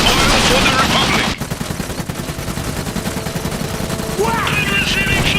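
Rapid automatic gunfire and bursts of shooting from the video game Iron Harvest, loud and continuous, with a crackling sustained barrage that thins after a sharp break and builds again near the end alongside clattering game effects.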